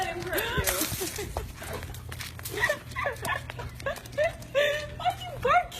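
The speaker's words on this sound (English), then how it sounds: "Why you barking me, silly?" A large dog of about 100 pounds barks repeatedly in short, close, fairly loud bursts, mixed with whimpery yelps, while someone talks excitedly over and between the barks.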